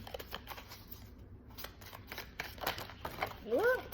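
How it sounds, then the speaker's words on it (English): A deck of tarot-style cards being shuffled by hand, a run of soft riffling and crinkly flicks close up, with a few brighter clicks near the end. "I'm going to shuffle the deck and we will pull some cards for you"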